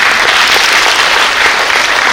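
Loud audience applause at a Mangalore University event on adopting government schools fills the whole stretch, a steady dense wash of many hands clapping together with no pauses.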